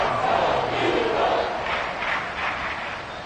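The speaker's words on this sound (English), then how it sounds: "This crowd turning up the decibel level." A football stadium crowd roars in a broad, sustained wash of cheering that swells and then eases slightly, with no clear individual voices standing out.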